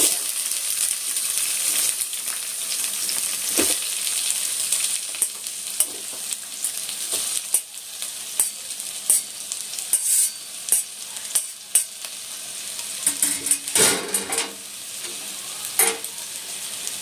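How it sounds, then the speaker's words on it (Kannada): Onions and cumin seeds frying in a pan for paneer kurma, a steady close sizzle broken by repeated scraping stirs and occasional clinks of the spoon against the pan. "ಸ್ವಲ್ಪ ಜೀರಿಗೆ ಇವಾಗ ಇದಕ್ಕೆ ಈರುಳ್ಳಿ"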